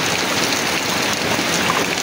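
Heavy typhoon rain pours down in a dense, continuous hiss, loud and close with no pauses.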